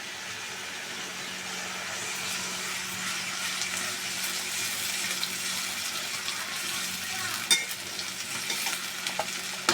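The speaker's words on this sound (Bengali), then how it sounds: "এখন দিয়ে দেব আদা রসুন বাটা" Ginger garlic paste frying in a pan with softened paste, a dense continuous sizzle and hiss, stirred with occasional scrapes and taps toward the end, close by.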